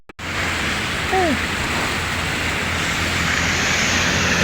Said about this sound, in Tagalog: pero grabing ulan kasi